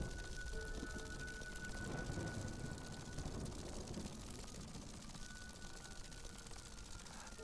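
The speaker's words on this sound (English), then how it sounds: "Maybe it's just raining. Maybe it's not a storm." Rain falling in the survival game Smalland, a steady, even hiss of light rainfall with no voices, holding at a soft level throughout.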